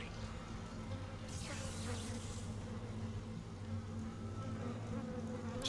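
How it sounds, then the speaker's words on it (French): Flies buzzing in the video game Dead Space, a faint, steady insect drone with a brief brighter swell partway through, heard alone without talk. "Super les mouches."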